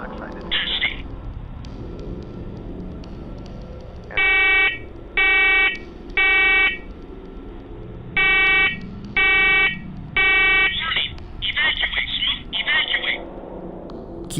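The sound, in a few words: smoke detector alarm going off in basement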